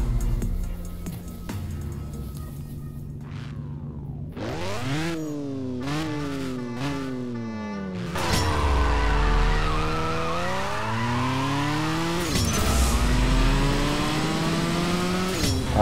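A race car in the CSR 2 drag racing game, fitted with a new engine and NOS boost, revs up loudly, shifts through its gears in rising sweeps, and then surges hard as the boost kicks in, sounding near and continuous.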